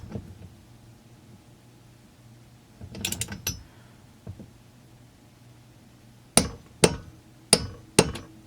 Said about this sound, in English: I'm going to use my torque wrench on the flywheel nut